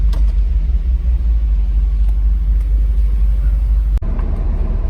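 Mercedes SL500 engine rumbles loudly and steadily up close as the car pulls away, a deep continuous drone broken briefly by a single click near the end.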